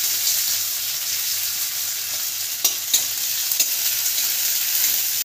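Onion, dried red chilli and cinnamon fry in a pan with bay leaf and cardamom for bhuna khichuri, giving a steady, close sizzle broken by a few sharp spatula clinks as the mixture is stirred.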